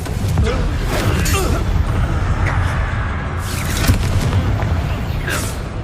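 In the Hogwarts Legacy game, a Confringo fire spell sets off loud, rumbling blasts with sharp bursts during a battle, amid dense combat noise and faint voices.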